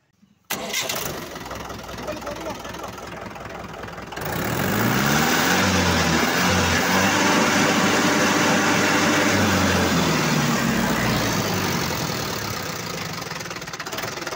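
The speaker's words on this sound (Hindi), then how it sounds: "टाइट होने के बाद स्टार्ट करके देखूंगा" A Mahindra 475 DI MKM DLX tractor engine cranks and catches about half a second in, then settles into a loud, steady diesel idle that swells in strength after a few seconds and runs on throughout.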